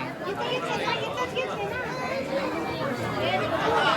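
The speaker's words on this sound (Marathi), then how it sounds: "तर गाईस तुम्ही बघू शकता किती भरपूर गर्दी आहे" Dense crowd chatter fills the grounds of Ekvira temple during a busy darshan visit, a steady close babble of many overlapping voices with no single speaker standing out.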